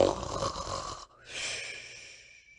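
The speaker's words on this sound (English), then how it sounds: "He stood a minute watching Tommy Brock and listened attentively to the snores. They were very loud indeed, but seemed quite natural." Loud, deep snoring, one long rasping breath followed by a softer drawn-out whistling exhale, close and alone.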